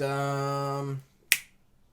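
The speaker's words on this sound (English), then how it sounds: "snap your fingers" A single crisp finger snap rings out right after a sustained tone ends, then quiet.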